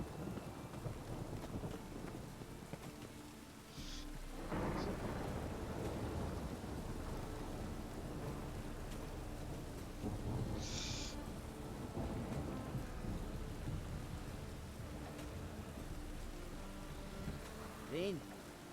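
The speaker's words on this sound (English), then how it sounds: "It just rains and rains." Rain pours steadily in The Witcher: Wild Hunt game world while deep thunder rumbles roll in now and then, with voices talking intermittently over the storm.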